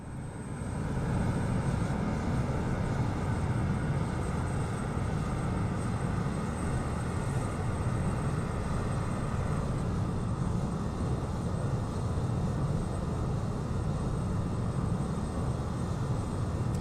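BAe 146-300 jet engines hold idle thrust in Microsoft Flight Simulator, a continuous, even roar and hum with a faint high whine that stays steady and fairly loud from start to finish.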